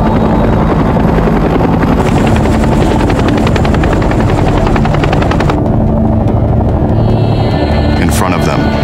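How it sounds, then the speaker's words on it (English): Military helicopters fly low at treetop level toward a landing zone in the Vietnam War, a loud continuous rotor thump and engine whine right up close throughout, with a voice talking over it. "the choppers drop to treetop level"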